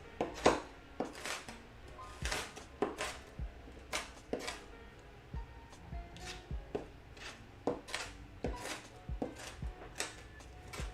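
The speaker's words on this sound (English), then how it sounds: "if you really don't like mouthfuls of garlic, I really recommend like chopping it up into smaller pieces" A knife chops garlic on a cutting board while a Chicken Tikka Masala is made, giving quiet, irregular taps in short bursts across the span with no talking.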